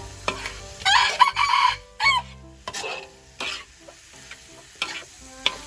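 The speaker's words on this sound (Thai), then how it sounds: "เดี๋ยวผัดอีกนิดนึงให้สุกนะครับ" Stink beans with shrimp paste, shrimp and minced pork are stir-fried in a pan, with close spatula scrapes and knocks over a soft sizzle, while a rooster crows in the background.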